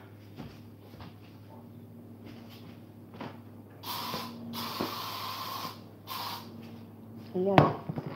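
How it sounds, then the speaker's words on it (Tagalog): Cooking spray hisses in two or three short bursts over a kitchen while breakfast of mushrooms and eggs is cooked, with people talking around the sprays and a background hum. "Mag-spray na po tayo."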